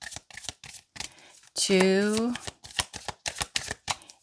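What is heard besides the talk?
tarot cards being shuffled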